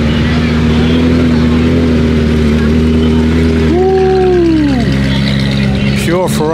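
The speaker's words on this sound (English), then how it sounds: "Pure Ferrari sound, and we got another 360 coming in" Ferrari 360 engine at a Cars & Coffee meet, droning loudly at a steady pitch before a sharp rev climbs and falls away, followed by fast warbling pitch sweeps, with people talking over the engine.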